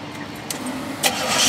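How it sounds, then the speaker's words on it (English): A 1975 Chevrolet El Camino S3 Laguna engine starting up, a loud close crank and catch that settles into a rising engine rumble, with no voices. "It starts up immediately."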